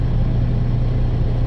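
A car engine drones steadily at low revs while the driver rides the clutch, a loud, continuous rumble with a constant low hum and no talking.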